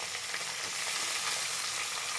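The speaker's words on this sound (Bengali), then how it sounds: "পেঁয়াজগুলো দিয়ে সুন্দর করে লাল করে আমি ভেজে নেব।" Chopped onions fry in hot oil as a mutton curry is cooked, a dense steady sizzle that stays even and fairly soft throughout with no voices.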